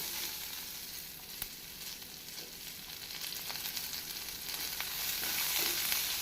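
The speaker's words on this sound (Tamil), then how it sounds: "பச்சை மிளகாய் போட்டு வதக்கி பின் தேவையான அளவு உப்பு சேர்க்க வேண்டும்" Green chillies sauté in hot oil with a steady, fairly soft sizzle and faint crackles, growing slightly louder toward the end, with no voices over it.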